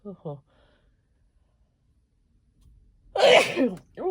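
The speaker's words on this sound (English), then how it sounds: "And I gotta sneeze." A single loud sneeze bursts out after a stretch of near silence, preceded by a couple of short breathy sounds and followed by a brief vocal tail.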